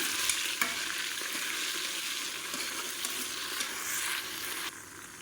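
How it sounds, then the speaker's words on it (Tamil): Onions sautéing in fat in a pan for mutton biryani give a steady, close sizzle with occasional stirring scrapes, continuous and fairly loud throughout. "இப்போ வெங்காயம் வதங்கிட்டு இருக்கு"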